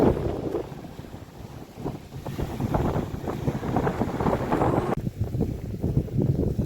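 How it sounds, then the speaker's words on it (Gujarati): Steady rushing water with a broadband wash, mixed with wind buffeting on the microphone, continuous throughout with no talk. "જો આનો અવાજ સાંભળો તમને નહીં સાંભળે તો આ પાણી આવે ને એનો અવાજ"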